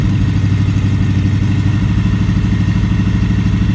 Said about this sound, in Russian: Мотор запущен, нагревается,